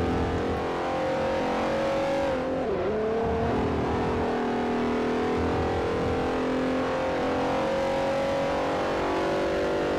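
A racing car engine in the Forza Motorsport 4 racing game drones loudly and steadily at high revs, its pitch dipping briefly as the car shifts or brakes through a corner, then holding a sustained roar.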